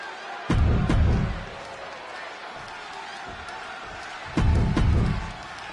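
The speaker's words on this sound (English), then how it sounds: "And just listen to this crowd here in Chicago." Wrestling crowd in Chicago within WWE 2K26, a dense arena roar rising in two loud surges with claps and thuds between, under steady commentary throughout.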